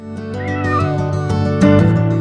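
A cartoon cat gives loud, drawn-out meows that rise into a wailing caterwaul, heard alone and close.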